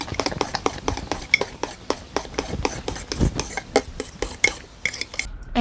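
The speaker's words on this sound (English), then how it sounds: "Mash the bananas until it looks like a banana paste like so." A utensil stirs and mashes banana and egg in a bowl, giving a quick run of repeated clinks and scrapes against the dish, close and fairly loud, with no voices.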